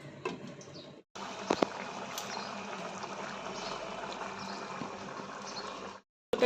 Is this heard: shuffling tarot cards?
no